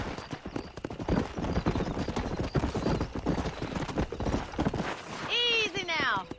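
Horse hooves clip-clop at a steady riding pace in the Red Dead Redemption video game, with a loud whinny near the end, while a voice speaks over the hoofbeats.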